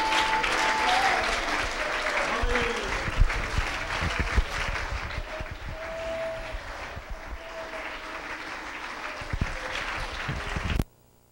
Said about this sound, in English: Actually, would you just clap your hands? Let's give God a standing ovation.